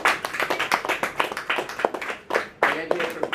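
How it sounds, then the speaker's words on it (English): Festival crowd clapping at an evening outdoor event, a steady dense patter of many hands close and lively, with some voices mixed in. "Give us a round of applause for a lovely festival night."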